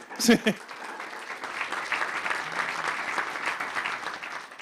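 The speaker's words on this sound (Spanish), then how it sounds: "Le damos un aplauso, por favor." Audience applause welcomes a guest at an acoustic concert event, a steady moderate wash of clapping from a small crowd after a brief voice at the start.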